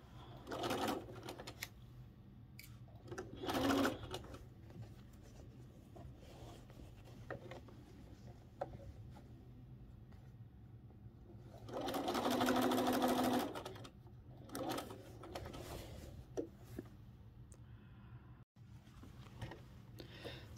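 A sewing machine runs a quarter-inch seam around the curve of a Wedding Ring quilt. It whirs in short bursts, and one longer run stands out. Between the bursts the room is fairly quiet, with light handling noises, and the machine sounds close but soft.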